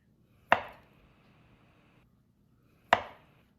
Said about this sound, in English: So we're just going to cut them about 1/2 inch.